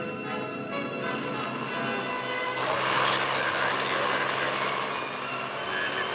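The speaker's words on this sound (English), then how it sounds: "the copters take off to fan out toward the various training fields or stage fields scattered throughout the countryside" Several training helicopters lift off together across the countryside, their engines making a steady, layered rotor drone with tonal whine that swells a little midway and holds at moderate distance.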